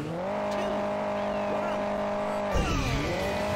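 A car revs at the start of a race in the video game Hill Climb Racing 2. The engine holds a steady, loud drone, then its pitch drops and shifts sharply near the end.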